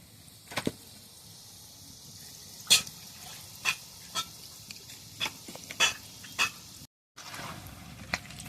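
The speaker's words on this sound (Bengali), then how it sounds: "তালপুরিগুলো সব আমরা ভেজে নিই" Palm-fruit puris (talpuri) frying in hot oil give a steady low sizzle, with sharp pops and ticks at irregular intervals and a brief drop to silence near the end.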